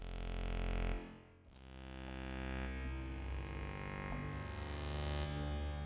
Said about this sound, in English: Hall verb.